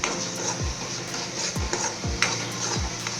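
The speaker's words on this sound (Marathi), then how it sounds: "त्याला छान असं मिक्स करून घेऊयात" A spoon scrapes and stirs through vegetables in a pan, with several distinct scraping strokes over a steady background sizzle; no voices.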